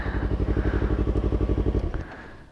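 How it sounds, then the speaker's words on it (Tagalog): A motorcycle engine runs loud and close while riding, a rapid, even pulsing throb that drops off suddenly near the end. "Maingay yung motor natin."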